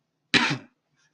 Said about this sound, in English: if you hear me cough a few times, I'm sorry about that